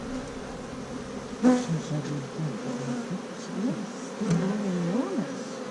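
Honeybees and unusually large drones buzz during a hive inspection, a steady close hum with wavering drone tones and a few sharp knocks and clicks of handling.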